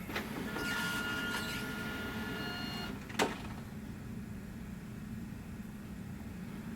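An HP laser printer, just closed after a resealed HP 98 toner cartridge was fitted, runs with a steady mechanical hum and whir, marked by a single sharp click or clunk about midway through.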